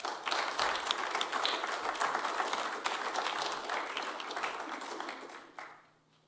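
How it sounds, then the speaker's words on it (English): Audience at a Vermillion Rotary meeting applauding a fellow Rotarian speaker, a dense steady wash of clapping that holds for several seconds before fading out at the end. "So please, roll a round of applause for fellow Rotarian,"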